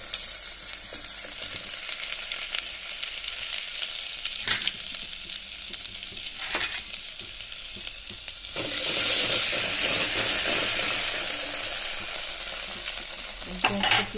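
Ginger garlic paste fries and sizzles in hot oil with cumin seeds and curry leaves for a Maharashtrian kat amti, with a steady close crackle, stirring scrapes in the pan, and a louder burst of sizzling as the paste hits the oil partway through.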